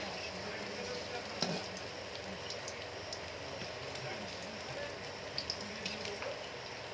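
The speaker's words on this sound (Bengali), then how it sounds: "দুই থেকে তিন মিনিট এভাবে আস্তে আস্তে ভেজে নিতে হবে" Crab fritters frying slowly in oil, a faint continuous sizzle with occasional light pops and a small clink, quiet and even throughout.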